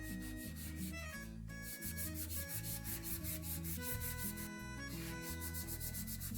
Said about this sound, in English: Now you need to put hard pressure and just rub it through so that all the lines go away.